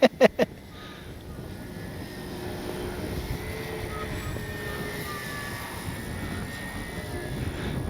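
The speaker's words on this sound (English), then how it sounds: "Oh, what a good flying plane" Dynam Tucano RC model airplane flying overhead, its electric motor and propeller a steady, moderately distant drone after a couple of sharp knocks at the start, with no talking.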